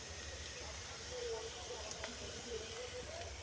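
Chopped garlic hitting a pan of onions that have already been fried, giving a steady, even sizzling hiss that holds at a low level throughout with no break.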